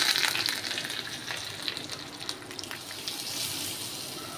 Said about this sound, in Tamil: இதை இப்போ தாளித்து எடுத்துக்கலாம் எண்ணெயில் பருப்பு கடுகு உளுந்த பருப்பு ஆட் பண்ணிக்கோங்க கூடவே கருவேப்பிலை ஆட் பண்ணிக்கலாம்